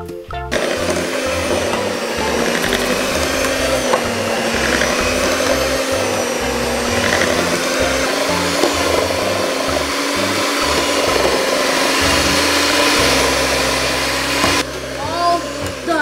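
An electric mixer whirs steadily through cake batter made with butter and milk, a loud continuous motor drone running for most of the stretch before switching off near the end.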